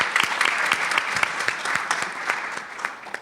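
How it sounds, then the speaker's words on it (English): Conference audience applause at a spring community engagement gathering: brisk, crowded clapping with distinct individual claps, moderately loud and continuous, no voices on top. "Let's give another round of applause for all of them"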